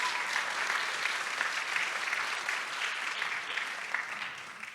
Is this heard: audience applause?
yes